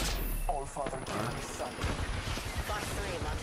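Rapid gunfire in a video game shooter, a burst of quick sharp shots with scattered bangs, moderately loud under a person's voice.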